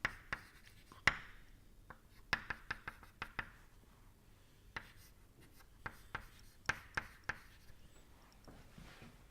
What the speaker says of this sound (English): let us just write the pressures